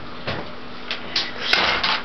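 A drawer being pulled out and pushed shut in a home. Several soft wooden slides and light thumps come over a steady background hum, moderately close, with a slightly louder clack near the end.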